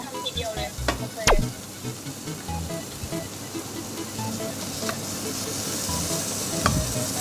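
Spaghetti carbonara sizzles and crackles in a hot pan, with occasional scraping and stirring clatter over the steady frying hiss.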